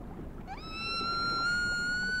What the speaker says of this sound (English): Guys, I know I found a whale. Or a dolphin. It sounds like a dolphin.